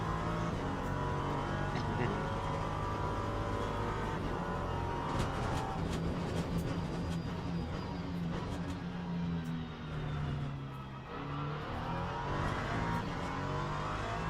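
LMP3 race cars at Sebring in a racing video game, with engines droning steadily throughout and rising and falling in pitch as the pack runs together.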